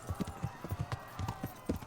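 Horse hooves clip-clop in the video game Kingdom Come Deliverance, a steady close run of muffled thuds at an even riding rhythm, with no voices over them.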